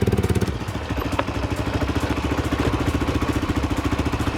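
A motorbike engine on a test ride chugs with a fast, even pulsing beat, close and steady throughout, with no voices.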